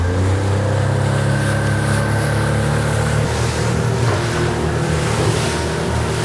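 A motorboat cruises across an open lake in summer, its steady engine drone loud and close beneath a constant rush of wind and water. The hull slaps through the waves, with no voices over the noise.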